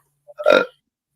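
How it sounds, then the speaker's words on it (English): A man lets out a single loud, guttural belch of about a third of a second, preceded by a faint short sound, with silence around it. "Did you belch? This guy belched."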